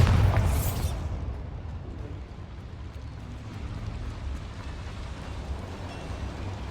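A Bombarda blasting spell goes off in Hogwarts Legacy: a loud, close boom bursts at the start, then rolls into a long low rumble with crackling debris that fades under steady background noise.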